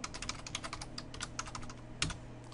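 Rapid typing on a computer keyboard, a quick irregular run of light clicking keystrokes heard close and alone, with one slightly louder key press near the end.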